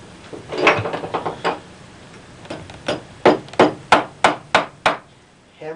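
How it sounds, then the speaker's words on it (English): Series of sharp hammer blows on a leather shoe, a few scattered strikes then a steady run of about seven evenly spaced taps, close and fairly loud. "hammer it in"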